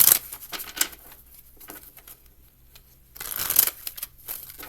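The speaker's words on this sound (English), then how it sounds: "The littlest cards you think they would shuffle easily" Small tarot cards being shuffled by hand produce bursts of crisp riffling and flapping, loud at the start and again toward the end, with quieter fumbling between.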